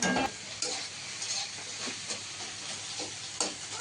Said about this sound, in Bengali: আর ডিমটা এই কড়াইতে ভেজে নেবো